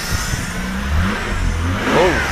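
A Holden Commodore engine is revved on a cold start, the engine note rising and holding at close range with a brief higher whine near the end, no talking over it.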